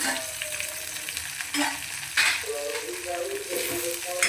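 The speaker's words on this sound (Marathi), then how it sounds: "कांद्याचा असा सोनेरी रंग आल्यानंतर त्याच्यात बारीक कापलेले टोमॅटो टाकायचे" Finely chopped tomatoes hit golden fried onions in a pan with steady sizzling and frying. Spatula stirs and scrapes recur throughout the short stretch at moderate loudness.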